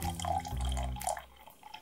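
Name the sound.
water being poured onto a baby diaper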